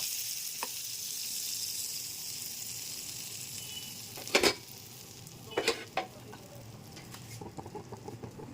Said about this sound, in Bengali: এইবারে ফ্রাই প্যান বসিয়ে দিয়েছি, আর একটু বাটার বুলিয়ে নেবো ফ্রাই প্যানের মধ্যে।